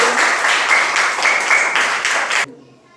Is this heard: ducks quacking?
no